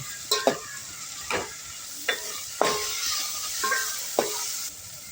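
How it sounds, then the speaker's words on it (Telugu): Cumin, mustard seeds, green chili paste and onions fry in hot oil, with a soft steady sizzle broken by several sharp clinks and scrapes of a spoon stirring the pan, close and fairly quiet. "జీలకర్ర, ఆవాలు, పచ్చిమిర్చి పేస్ట్, ఉల్లిపాయలు వేసి పచ్చివాసన వరకు వేగనివ్వాలండి."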